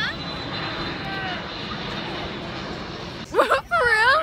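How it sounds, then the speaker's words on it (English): A fixed-wing airplane drones overhead in a steady, broad roar that holds throughout, heard outdoors near a Popeyes, with voices breaking in close to the mic near the end. "Oh, look at the airplane"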